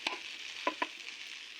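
Food cooking in a pan gives a steady, soft sizzle at close range, broken by a few light clicks of stirring.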